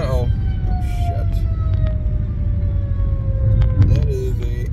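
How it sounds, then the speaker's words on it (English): An ambulance siren wails with a slowly falling tone over loud road rumble, sounding fairly close, with a brief voice near the end. "That is an ambulance."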